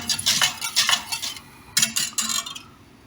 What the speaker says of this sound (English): we just whisk that in, get it all mixed through